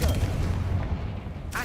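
Confringo spell explosion in the Hogwarts Legacy video game, a heavy rumbling boom with a low-end roar that fades over about a second and a half.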